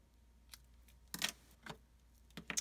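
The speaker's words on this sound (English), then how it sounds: "I'll trim it." Scissors trim silver thread in a quiet room with a few sharp snips, one near the start and a cluster of crisp cuts later, spaced irregularly.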